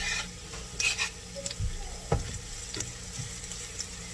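Garlic frying in leftover oil with a little fresh oil added, for batagor: a soft, steady sizzle with a few scraping stir strokes, moderately close, no talking.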